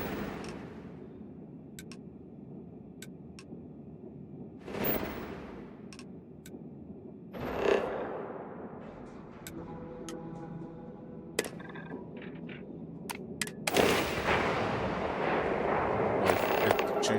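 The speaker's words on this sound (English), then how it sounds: "let's gun them down" Gunfire in the space game Starfield: a few sharp shots and heavier bursts scattered through steady background noise and ambient tones, moderately loud, with no talk over it.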